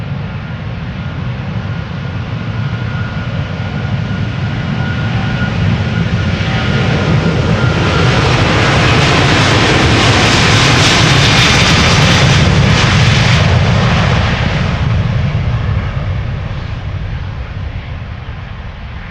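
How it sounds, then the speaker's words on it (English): American Airlines Boeing 777-200 departing Amsterdam Schiphol for Dallas, a loud jet engine roar that swells as the aircraft passes close by, peaking midway with hissing high whine, then easing off. "This is American Airlines Flight 221, 777-200 to Dallas in Texas."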